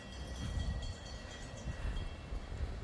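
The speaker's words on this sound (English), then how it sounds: "There's a little train in the park." A small train rumbles past at a distance in a park, a steady low rolling noise with faint high tones above, continuous and moderately quiet throughout.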